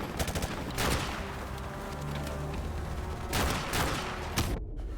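Rapid bursts of gunfire from Call of Duty 4: Modern Warfare fill the clip with dense, sustained shooting, flaring louder about a second in and again near the end, then cutting off abruptly.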